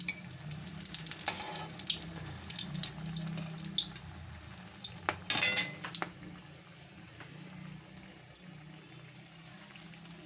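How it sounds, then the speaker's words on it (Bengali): Stuffed chili chops frying in oil over low to medium heat, with soft steady sizzling under irregular clinks and scrapes of utensils against the pan. "লো টু মিডিয়ামে আমি ভাজবো"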